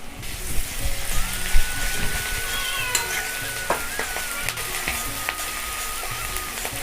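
Ginger paste and chopped onion fry in hot oil with cumin for muri ghonto, giving a steady close sizzle with light stirring clinks and no talk.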